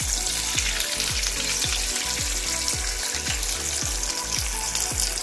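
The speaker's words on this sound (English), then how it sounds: "if it fizzles like that, then you know you're at the right temperature for deep frying" Chicken goujons deep frying in hot oil give a steady, dense sizzle and crackle, with a regular bubbling pulse running through it and no one talking.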